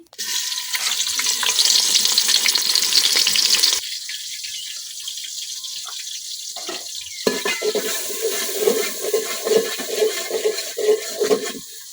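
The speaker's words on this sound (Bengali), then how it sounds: "তো এখন আমি পেঁয়াজ কুচি দিয়ে দিতেছি।" Chopped onions fry in a pan in a home kitchen, with a loud sizzle at first. It then gives way to quieter frying broken by a run of rhythmic stirring scrapes near the end.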